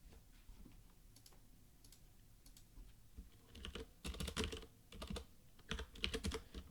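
Fingers type on a computer keyboard while working in JupyterLab, a sparse few taps giving way to a denser burst of quick, close clicky keystrokes, quiet overall with no speech.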